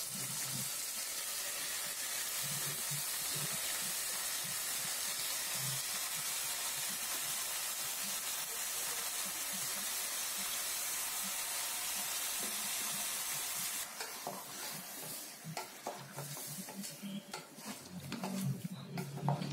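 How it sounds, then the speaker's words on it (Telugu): Half a kilo of washed mutton sizzles steadily in a hot pan while being stirred for a spicy mutton curry, a constant close hiss with soft scraping and clinks toward the end. "మటన్ వేసేసుకొని మొత్తం అన్నీ అంతా పట్టేటట్టు మనం తిప్పేసుకోవాలి."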